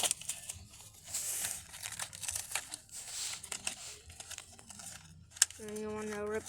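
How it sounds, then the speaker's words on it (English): Plastic blister packaging being peeled and ripped off a toy truck, with repeated crinkling and tearing bursts up close and a short voiced sound near the end. "And you want to rip off this plastic right here."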